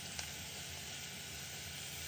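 Ingredients seasoned with salt, black pepper and a cardamom pod sauté in a pan with a faint, steady sizzle and one brief tick near the start.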